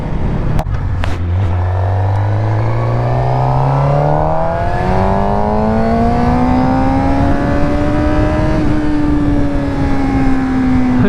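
Suzuki GSXR 600 sport bike accelerating hard in second gear, its engine whine climbing steadily in pitch for several seconds before levelling off, loud and close under constant wind rush.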